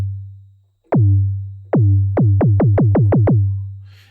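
Deep 808 kick drum bass programmed in Logic Pro X for sub-heavy tech house: a long sustained sub tone, then punchy pitched kick hits that start sparse and settle into a quick steady run of about eight strikes, loud and alone.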